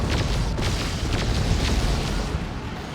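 A Whirlwind tank is blown apart by Eldritch in a Dawn of War 2 battle: a sustained, rumbling explosion with dense low-end roar that keeps going without a break, set against constant battle noise.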